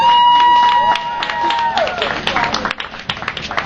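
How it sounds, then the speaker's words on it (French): An audience at an Alliance Française end-of-year party breaks into dense clapping that swells and carries on after a voice, mixed with crowd murmur and fluctuating in loudness. "Applaudissez Madame Mickey"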